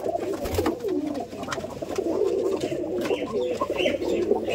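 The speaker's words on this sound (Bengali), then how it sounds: "দেখছেন তো ঢোপে সব কবুতর লোড।" Giribaz pigeons coo in a crowded loft, several birds overlapping in soft, throaty, repeated calls, close and continuous with faint background rustling.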